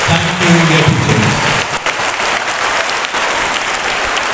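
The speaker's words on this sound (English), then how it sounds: "Let's give our organizers of the day a big round of applause" A big round of applause from a school audience for the day's organizers at an academic program, dense steady clapping that fills the whole stretch, loud and close.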